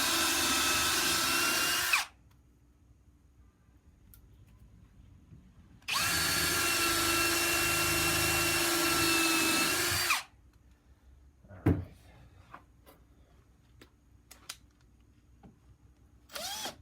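A drill bores into HDPE plastic for an epoxy mold, two loud, close whining bursts of roughly four seconds each separated by quiet, with faint handling knocks afterward.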